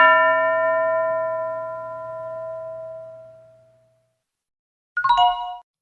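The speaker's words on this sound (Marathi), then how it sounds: "घंटा वाजली की टीचर एका मुलाला किंवा मुलीला उभं करतील." Classroom bell rings once with a bright metallic ding that fades slowly over several seconds, followed after a short silence by a second brief, sharper chime.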